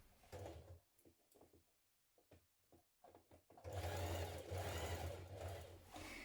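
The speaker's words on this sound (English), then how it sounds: "We're now going to stitch that in place." A sewing machine stitching elastic into a skirt: a few short start-stop bursts, then a loud, continuous whirring run close by, with no talking.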